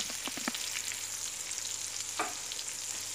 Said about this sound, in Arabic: اللحم مرقد في هاد لاماغيناد هذه، ليه نقدو عليه واحد شوي يتشحر